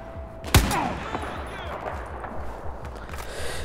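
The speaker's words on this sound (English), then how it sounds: "Go away, stop shooting me." Enemy gunfire in the Battlefield 4 campaign on Kunlun Mountain: one sharp, loud shot up front, then scattered quieter shots and rumbling combat noise trailing behind.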